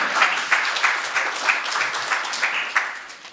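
Audience applause at a design lecture, a dense burst of clapping from a crowd that carries on steadily for a few seconds, close and fairly loud.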